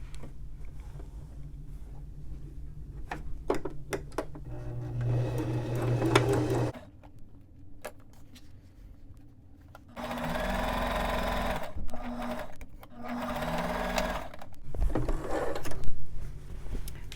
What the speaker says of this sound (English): I'm going to sew at 5/8 of an inch all the way across